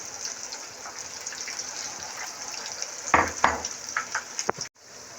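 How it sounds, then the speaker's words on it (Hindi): Batter-coated cauliflower pieces frying in hot oil, a continuous close hissing sizzle with a few louder bubbling bursts near the end before it cuts off abruptly. "1-2 मिनट इसे फ्राई करेंगे और उसके बाद निकालते हैं।"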